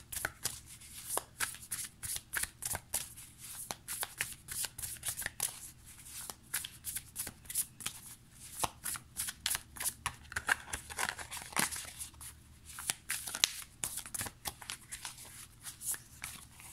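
Tarot cards handled and shuffled close by, a long run of quick crisp flutters and riffles in irregular bursts, quiet with no talking.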